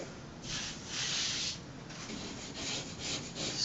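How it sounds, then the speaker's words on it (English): A scraper or sandpaper rubbing across a wall to smooth it before a peel-and-stick mural goes up, giving soft, repeated rasping strokes that rise and fall at a quiet, close distance. "just get a little scraper or some sandpaper and just make sure the whole wall is nice and smooth"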